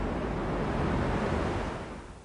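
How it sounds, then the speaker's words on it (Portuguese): Broadband ocean wash and gusting wind surround a sailboat at sea, a steady rushing roar that swells slightly then eases toward the end, with no voices. "Neste barco, Amir aprendeu a delicada arte de negociar com o vento, com as ondas incontroláveis."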